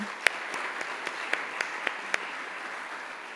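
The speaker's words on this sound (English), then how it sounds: "So please just give them a round of applause." Sparse, scattered clapping from a conference audience thanking event staff and volunteers at a closing session, a handful of distinct claps over a steady room hum, fading out after a few seconds.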